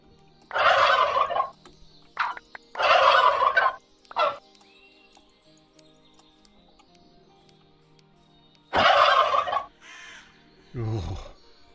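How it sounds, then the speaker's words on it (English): Turkeys in the Terrafirmacraft modpack for Minecraft let out loud, rattling gobbles in repeated bursts, three close together, then a pause before another run, alongside a few shorter calls. "the turkeys make so much noise"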